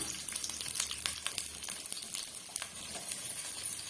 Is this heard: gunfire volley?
no